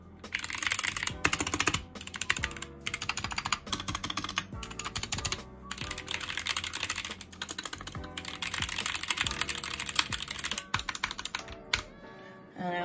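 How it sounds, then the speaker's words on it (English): Rapid, continuous typing on a GK61 mechanical keyboard with Gateron optical black switches, with dense clacky keystrokes in bursts and a few short pauses, close and loud. "GK61 keyboard with Gateron optical black switches"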